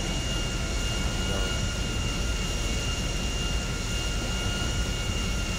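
An airplane flies in the video game GTA 5, giving a continuous, loud engine drone with a steady roar and faint whine that holds constant throughout, with no talking.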